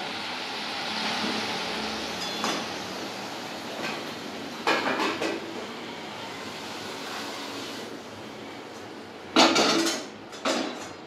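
A pot of pabda fish curry is lifted off the stove, with a few scattered metallic clanks and knocks over a steady low hiss, sharpest near the end.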